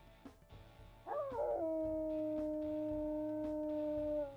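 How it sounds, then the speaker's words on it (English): A single sustained wolf howl from the video game WolfQuest rises sharply then holds a long, steady tone, with faint background noise and a few soft clicks. "Let's also listen to her howls here."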